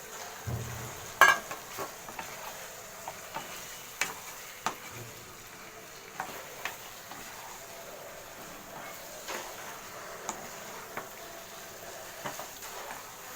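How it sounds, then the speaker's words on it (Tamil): Chicken sautéing in a pan for butter chicken makes a faint, low sizzle broken by scattered clicks and scrapes of stirring, close but quiet, with no one speaking. "இதை சேர்த்து வதக்கிக்கலாம். இது கூடவே இந்த சிக்கனும்"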